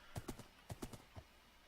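Horse hooves clip-clop in Minecraft, with soft, quiet hoofbeats in two quick groups of three followed by a single final step.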